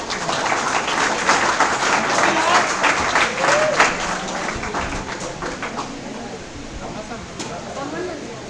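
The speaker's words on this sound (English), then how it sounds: "Please give a big round of applause." Audience applause at a felicitation during an Intellectual Property Rights seminar: a steady wash of many hands clapping, strongest through the first half, then thinning and softening toward the end.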